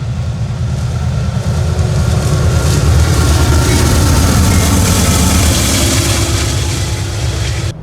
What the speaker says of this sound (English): sometimes you get privileged to see a train go by.